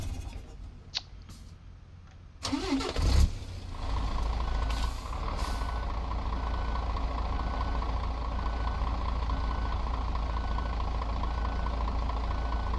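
Gas-cylinder cage truck in a driving game, idling with a steady engine rumble after a sharp hiss and clunk, with repeated beeping layered over the engine.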